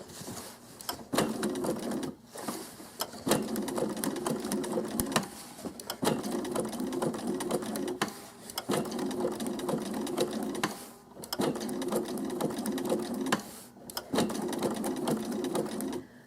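A home sewing machine stitches an appliqué for a quilt block, running in steady mechanical bursts of whirring needle strokes separated by short pauses for stopping, lifting and pivoting the fabric.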